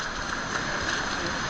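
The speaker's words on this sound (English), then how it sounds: "A little walk in the rain?" Steady, dense rain falling outdoors during a walk in Africa, a continuous hiss with no break, close and fairly loud.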